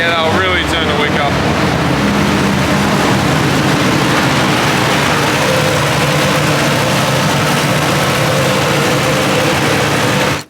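A turbocharged car engine drones loud and steady on a dyno during tuning, its heavy rumble and high whine sustained for about ten seconds before cutting off abruptly.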